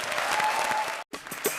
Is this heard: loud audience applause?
yes